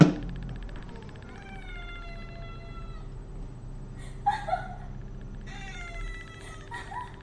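A cat meows in several drawn-out, wavering calls, close by, with a short higher yowl in the middle and a quiet background hum throughout.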